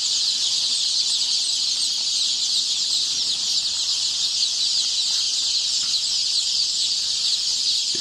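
A dense chorus of chicks chirps continuously inside a large poultry farm shed in Punjab, Pakistan, a steady high-pitched cheeping that stays loud and unbroken throughout.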